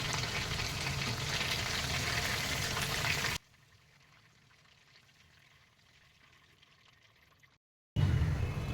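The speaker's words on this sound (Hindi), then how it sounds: "ये देखिए हमारे चिकन फ्राई हो गए हैं।" Crispy chicken pieces frying in a pan of hot oil give a loud, constant sizzling hiss, cutting away to near silence partway before the vigorous frying returns at the end.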